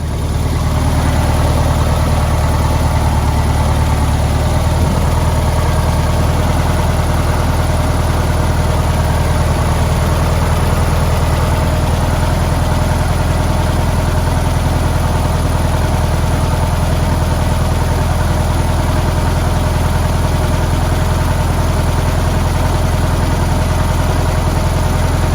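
A 1973 Volkswagen Karmann Ghia engine idling steadily and loudly for a long stretch, an even, continuous mechanical hum with no talking.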